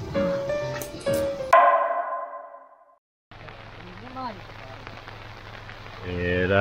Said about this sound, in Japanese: この音を聞いてください。 どっしゃ降りの雨の中キャンプしてます。